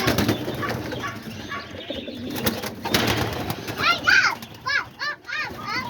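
Homing and roller pigeons flap their wings as they fly out, bursts of clattering wingbeats over children's voices and chatter, with soft coos and chirps toward the end.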